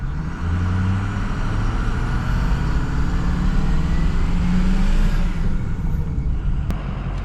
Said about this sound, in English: I'm gonna give it some good throttle and put it under a load. Let's make sure the turbo boosts up pressure.